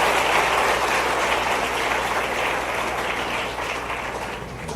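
Audience applause at a live political speech by Madhya Pradesh chief minister Mohan Yadav in Bhopal, a dense, steady wash of clapping that holds for the whole stretch and eases slightly near the end.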